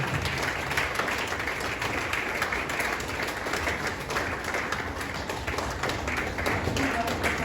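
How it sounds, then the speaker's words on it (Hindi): An audience at a loyalty achievers' celebration in a Rajgir resort claps without stopping for the honoured guests, a steady, dense patter of many hands held at an even level throughout. "ताली नहीं रुकनी चाहिए इनके लिए"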